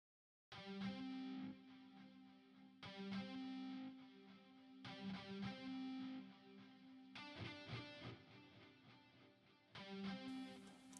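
A sustained synth or guitar chord pattern repeats in phrases, made in Cubase 15 Pro, each note washed in long reverb tails and echoing delay, with no voices.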